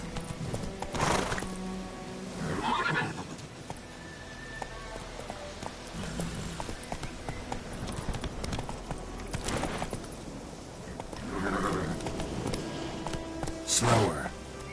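A horse in the video game Witcher 3 gallops with steady, rhythmic hoofbeats throughout and gives several loud neighs and whinnies spread across the stretch. A voice talks intermittently over the action.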